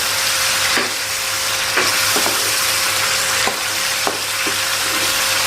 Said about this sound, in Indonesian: Masukkan aja cuminya. Mantap. Ini lagi aduk.